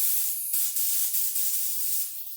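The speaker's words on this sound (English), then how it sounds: "A little shot of air." Compressed air blown through a Mikuni carburetor pilot jet from a nozzle gives a close, steady hiss lasting a couple of seconds, with slight surges and no talking.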